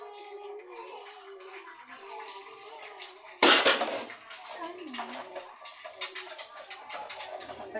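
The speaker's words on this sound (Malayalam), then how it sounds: "പാത്രങ്ങൾ കഴുകുന്ന വൈകുന്നേരത്താണ്." Dishes, pots and pans being washed under running water in a home kitchen, with clinks of utensils and splashing, a louder burst of water midway, and bird calls in the background.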